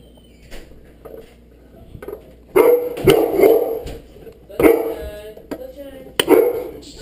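A pet dog barks in a home kitchen while cassava cake is being mixed, several loud sharp barks over about five seconds, coming close to the microphone between faint sounds of stirring.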